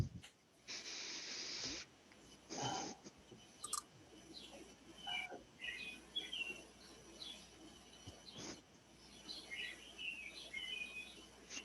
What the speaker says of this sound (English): Oh, I can hear somebody's birdies.